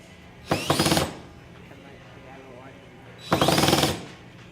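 A power drill drives a screw in slow, short bursts, two whirring rattles about three seconds apart, each lasting around half a second, close and clear against quiet room background.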